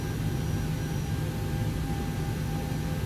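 Boeing 737-800 jet engines running steadily in the X-Plane 11 flight simulator, a loud constant whine and roar with a broad hiss and sustained tonal hum, no voices.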